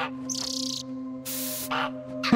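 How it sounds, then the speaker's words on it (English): Feather goat bird calls from Goat Simulator 3, a few short synthetic chirps and squawks in separate bursts over a steady electronic hum. "The bird noises."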